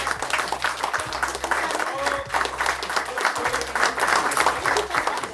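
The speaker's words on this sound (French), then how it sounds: "Je vous propose quand même qu'on l'applaudisse pour tout le boulot et son engagement." Audience applause fills a general assembly hall, a dense, continuous clapping that holds steady for several seconds, with a few voices underneath.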